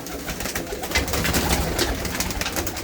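Pigeons cooing at an old fort from the Maharaja Ranjit Singh era, soft repeated coos rising and falling over about three seconds, fairly close and alone with no talk.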